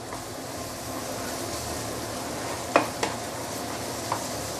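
Soya bean paste sautéing in a wok, with a steady low sizzle under a few sharp clicks and scrapes of the spatula against the metal.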